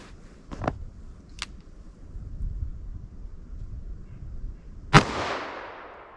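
Revolver shots firing Doubletap hard cast ammunition at an outdoor range, a few sharp cracks early and one louder close blast near the end with a trailing echo.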